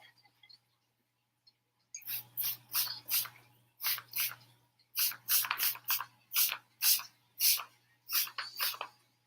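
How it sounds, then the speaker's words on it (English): Quick spritzes from a spray bottle onto gelled hair, about a dozen short hissing bursts in a steady rhythm, close and fairly loud. "I'm just going in my spray bottle to soften that gel up."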